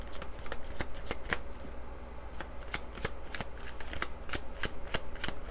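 Tarot cards being shuffled by hand, a steady run of crisp riffling snaps and slaps at close range with no talking over them.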